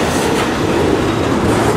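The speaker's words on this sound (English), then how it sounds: "You got this train pulling out." Freight train pulling out of a rail yard, a loud, close, continuous rumble of rolling cars and wheels on track with steady clattering noise throughout.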